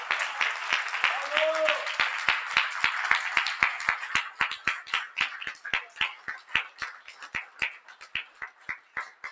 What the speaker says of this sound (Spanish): Renán Fernández, un fuerte aplauso para él.